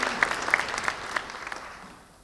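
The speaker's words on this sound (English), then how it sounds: "So please give them a round of applause." Audience applause at a university faculty convocation, a dense burst of many hands clapping that starts strong and gradually thins and fades out over about two seconds, heard without talk.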